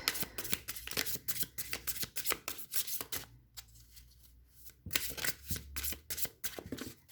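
An oracle card deck is shuffled by hand, giving rapid bursts of close papery riffling and slapping, with a short pause before the shuffling starts again.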